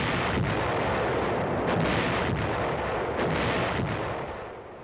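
Artillery fire during a sustained military drive, heard as a dense, continuous roar of booming gunfire with a few sharper bursts standing out, loud and close throughout before easing slightly at the end.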